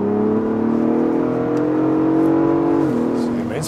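A Ford Bronco Raptor's engine drones steadily and close, rising slightly in pitch as it accelerates before easing off near the end, with faint talk underneath.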